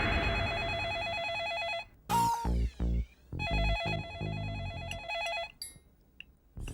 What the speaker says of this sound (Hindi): फोन उठाओ आके।